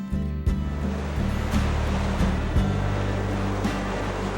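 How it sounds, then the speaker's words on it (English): Rough ocean surf crashes in a rush of heavy water, with repeated dull thuds a second or so apart over a steady low rumble and wind-like wash. "It was now time to hit the surf, which was really rough."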